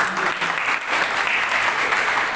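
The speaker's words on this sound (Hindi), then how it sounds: "जोरदार तालियां।" An audience at a health-worker event hosted by a hospital and foundation applauds loudly and steadily, a dense wash of clapping that holds throughout without a break.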